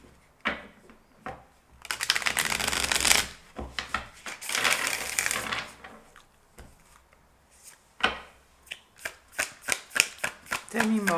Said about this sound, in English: I will shuffle once again